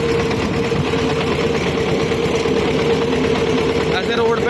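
A tractor drives along a rural road past fields toward a grain market, its engine chugging in a constant, dense vibrating drone close by.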